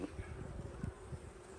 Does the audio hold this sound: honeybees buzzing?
yes